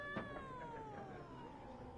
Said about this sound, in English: The cat is not happy with us.